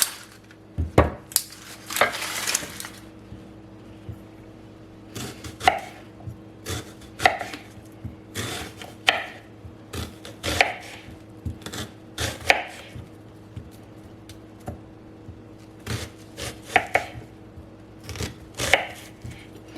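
A whole onion is chopped with a knife on a cutting board for a zucchini spaghetti bake. Sharp, irregular knife strikes land in bursts, some quick and clustered, some spaced out, close and clear with no talking.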